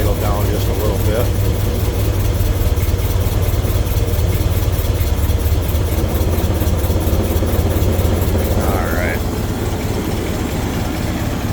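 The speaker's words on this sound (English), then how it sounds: "Turn this throttle or idle down just a little bit." Engine of a 1924 Ford Model TT C-cab flatbed truck idling with a steady low rumble close by, someone talking over it throughout.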